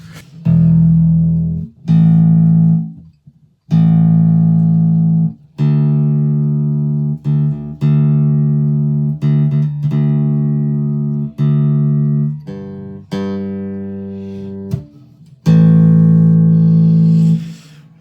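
Sustained fretless Encore bass guitar notes played through a Stag amp set neutral at half power, each held for a second or two with short gaps between, a steady series of low tones with no voices.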